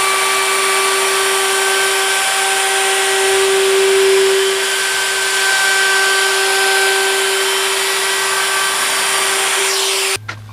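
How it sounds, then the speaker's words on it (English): A router fitted with a roundover bit rounds the edge of a wooden cornhole board, a loud continuous high whine holding steady for about ten seconds up close before cutting off abruptly. "So I have a roundover bit. I'm just going to take a little edge off this."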